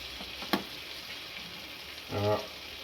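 A salmon trout fillet frying in a pan gives a soft, steady sizzle, with a single sharp tap near the start and a brief low rumble toward the end.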